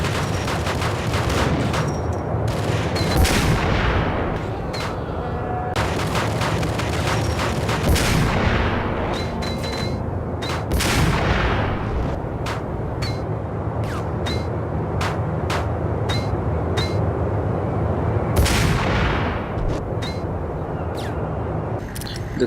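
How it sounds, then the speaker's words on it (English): Sniper rifle fire from the shooter game Max Payne, on a cargo ship level among large crates. Sharp, loud cracks sound at irregular intervals over a dense, constant bed of game noise and ambience, with several shots coming in quick succession. "Here you can put your sniper rifle to use."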